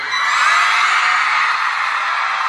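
A large concert crowd at a live show in Hollywood shouts, screams and whoops together in a loud, sustained roar that fills the space, with no single voice standing out.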